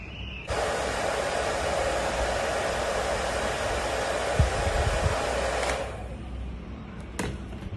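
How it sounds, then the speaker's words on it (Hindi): A hair dryer runs for about five seconds, blowing air at the side of a small DIY wind turbine fan. Its loud, steady whooshing hiss starts abruptly and cuts off sharply, followed by a couple of small clicks. "नाउ ये हेयर ड्रायर है, इसको मैं इस तरफ फैन के इस साइड पे हेयर ड्रायर चलाऊंगी"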